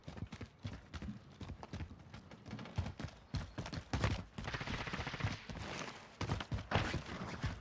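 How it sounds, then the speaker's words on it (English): Gunfire in a first-person shooter video game, rapid clustered bursts of shots crackling in irregular volleys, fairly close and dense throughout. "Shots in front."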